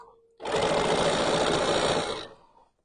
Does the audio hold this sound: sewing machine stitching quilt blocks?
yes